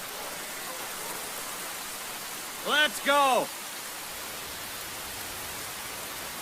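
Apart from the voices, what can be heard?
rain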